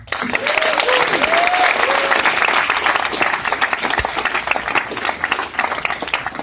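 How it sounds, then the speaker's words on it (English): An audience at a convention applauds steadily and loudly for several seconds, a dense wash of clapping with a few faint whoops early on. "One round of applause for Tom."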